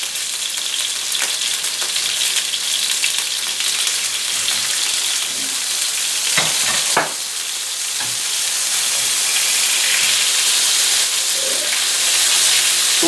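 Pieces of food dropped one by one into hot oil in a pan, a steady bright sizzle and crackle with a few soft plops and clinks, swelling slightly louder toward the end.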